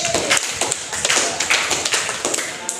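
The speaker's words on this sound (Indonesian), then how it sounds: "kita beri aplaus lah dulu kalau gitu" Applause from an audience, a burst of close, dense hand clapping that carries on steadily throughout with no speech over it.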